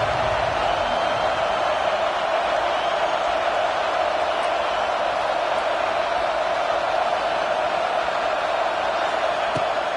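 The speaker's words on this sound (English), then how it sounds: "this crowd is at fever pitch" A packed stadium crowd in a college football video game, Kansas State against Nebraska, roars as one steady, loud wall of cheering that holds for the whole stretch without any break.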